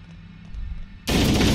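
Warning gunshot fired in the video game Halo CE, one sudden loud blast that cuts off a quiet moment and rings out briefly.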